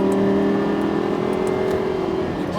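Lamborghini Gallardo LP560-4 engine held at full throttle, a loud, sustained droning roar that stays steady throughout, heard from inside the car.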